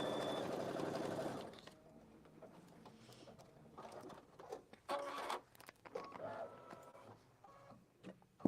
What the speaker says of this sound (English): we're going to go ahead and stitch color stop number 1, which is just going to give us placement lines for our cream colored fabric